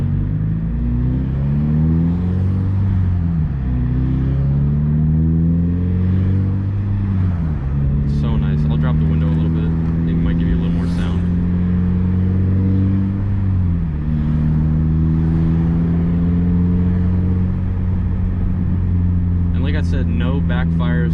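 A Subaru BRZ with an aftermarket exhaust drones steadily while driving, its pitch rising and falling as the revs climb through the midrange, loud and close with a person talking over it.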